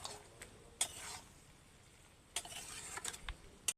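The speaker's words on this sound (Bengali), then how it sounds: "এইবার এটাকে কয়েক মিনিট হালকা আঁচে নেড়ে নেব।" A spoon stirs fried ridge gourd and potatoes in a pan over low heat, with faint scraping and soft clinks at intervals over a quiet, low sizzle.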